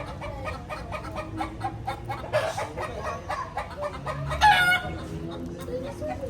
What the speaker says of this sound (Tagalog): Hala na ay nangitlog manok.